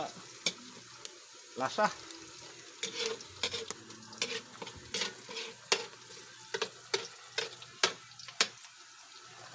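Garlic sizzles in a pan for a dish of dinuguan, with a soft steady fry beneath a string of sharp, rhythmic scraping and stirring strokes. A brief murmured word is faintly audible.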